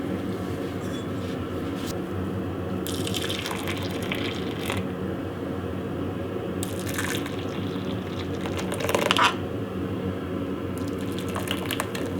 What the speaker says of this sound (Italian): Adesso posso versare il mio budino all'interno dei contenitori.